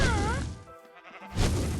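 A sheep in a video game lets out a single wavering bleat at the start, loud and close, followed by a quieter stretch and then a burst of noisy game sound.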